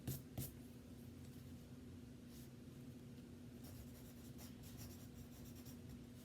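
A pencil writes on paper, with soft, close scratching strokes in short bursts against a quiet room.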